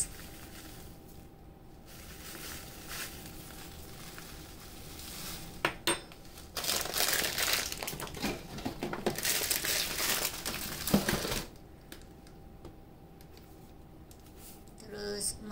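Breadcrumbs spooned into a meatball mixture and worked in by hand, with close crinkling, squishing and mashing sounds that grow busier and louder in the middle, plus occasional clinks of a spoon against the bowl.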